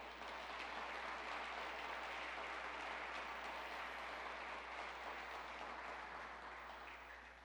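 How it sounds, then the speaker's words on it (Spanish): A church congregation applauds loudly and steadily during a Spanish-language sermon, the clapping filling the room for several seconds and tapering slightly at the end. "Denle un fuerte aplauso a Él."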